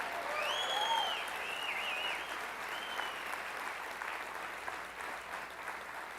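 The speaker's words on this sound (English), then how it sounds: "Can we get a big round of applause for Carol?" A summit audience gives a round of applause for an events coordinator, fairly distant, even clapping with a few whistles rising over it early on, then gradually thinning.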